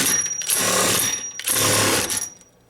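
Makita XWT02 18V brushless cordless impact wrench hammers in forward in two short bursts, each a loud, rapid rattling clatter that stops abruptly when the trigger is released.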